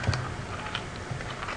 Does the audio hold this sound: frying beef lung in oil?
no